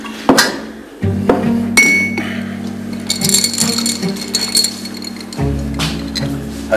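Drinking glasses clink sharply several times at irregular intervals over a low steady hum, close and bright.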